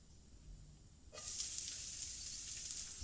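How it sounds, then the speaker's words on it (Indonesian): Eight cloves of sliced garlic and ten sliced shallots drop into hot cooking oil in a pan. After a quiet second, a loud, steady sizzle starts and holds close by. "Tumis 8 bawang putih dan 10 bawang merah yang udah diiris-iris seperti ini."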